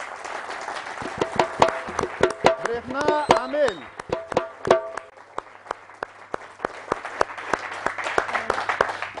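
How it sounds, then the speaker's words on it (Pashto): Studio audience clapping on a comedy show, a scattered burst of hand claps greeting a female singer while someone speaks over the start, then the applause continues on its own. "په ویاړ یو چکچک دی"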